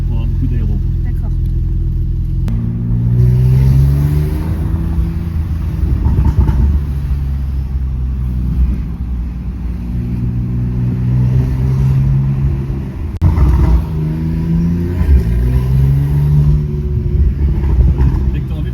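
A car engine drones and repeatedly revs up in town, its pitch climbing in waves from inside the cabin, with a voice talking over it.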